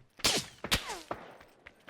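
Gunfire in the battle royale video game PUBG, a few sharp shots spaced apart, fairly faint, with brief crackling decay and no talk over it.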